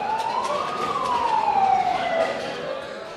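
An ambulance bringing casualties from an airstrike arrives with its siren sounding a single wail that rises and then slowly falls, at moderate distance, over low background traffic noise.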